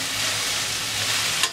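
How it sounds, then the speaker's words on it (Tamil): Chopped vegetables sauté in a hot pan for white sauce pasta, giving a steady, loud, close sizzle throughout, with a brief stirring clink near the end and no talking. "3 நிமிஷத்துக்கு வதக்கி விடுங்க."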